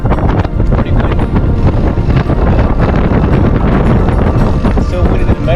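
Strong wind gusts buffet the microphone at Columbia County airfield, a loud, continuous low roar with rumbling surges throughout.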